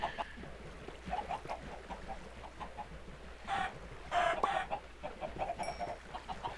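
Minecraft chickens cluck repeatedly in short, soft bursts over a steady background hum, with a couple of louder squawks midway.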